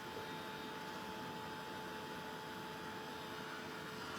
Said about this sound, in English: The heat of the heat tool is actually softening the acrylic paint as well